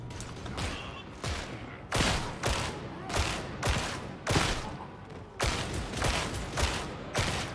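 Rapid gunfire in a Warhammer shooter game, sharp close shots arriving in irregular bursts over a constant battle rumble, with no voice over it.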